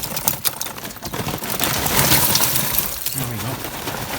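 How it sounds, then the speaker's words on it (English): Lump charcoal pours into a Broil King Keg grill in cold weather, a rattling, clattering cascade of hard coals building in loudness over a few seconds, with a voice speaking near the end. "I'm just going to dump some coals in today"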